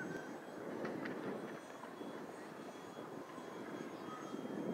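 An E-flite Habu STS 70mm EDF radio-controlled jet flying at half throttle, producing a steady broadband ducted-fan rush from a distance, moderately quiet, with no talk.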